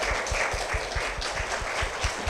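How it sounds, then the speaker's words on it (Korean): Church audience applauding on a Korean Christian TV program, a steady wash of clapping with rhythmic low thumps underneath, moderately loud and continuous without talk. "큰 박수 부탁드립니다."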